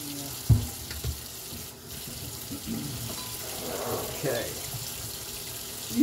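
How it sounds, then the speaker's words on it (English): A sink tap runs while hands are washed in a home kitchen, a fairly quiet, steady water flow with a few clunks, and voices talk faintly in the background. "Let me wash my hands dealing with this garbage can and stuff."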